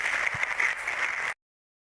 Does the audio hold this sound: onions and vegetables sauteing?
no